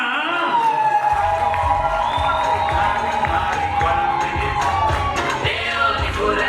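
Wedding guests in a loud, dense crowd cheering, whooping and ululating with sustained high trilling voices over excited chatter, continuing throughout.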